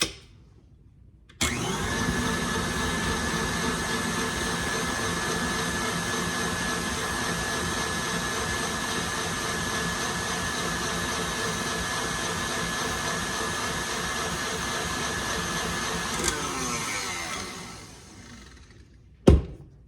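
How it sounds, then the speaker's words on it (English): A stand mixer with a whisk attachment whips tallow for body butter, its motor kicking on abruptly into a loud steady whir that holds for about sixteen seconds, then winds down, with a clunk at the end. "just put it in the mixer here with the whisk attachment. And you're just gonna whisk this just like you were whisking cream to make whipped cream."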